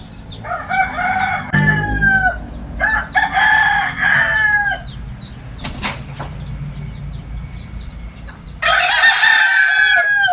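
Fighting roosters kept for sale crow repeatedly and loudly nearby in long rising calls, with wing flapping, clucking and a sharp thump in between, against a faint background of other distant crowing.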